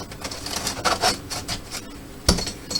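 Rotten wood paneling being pried and pulled out inside an Apache camper near the bed window, giving scraping, rasping rubs and creaks with a sharp crack near the end, close up and without talk.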